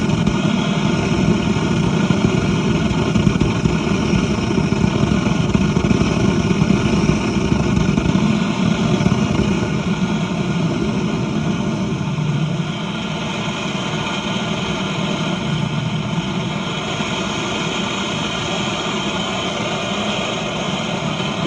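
A refurbished Turner blow torch burns with a steady, loud jet-like roar and hiss that holds unbroken for about twenty seconds, with no talking over it.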